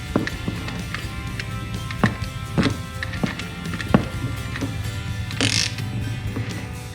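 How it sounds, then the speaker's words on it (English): A ratchet turns to tighten a garage door extension spring pulley wheel, giving scattered clicks and sharp metallic snaps over a low background hum, close and moderately quiet. "let's tighten up the pulley wheel at this time"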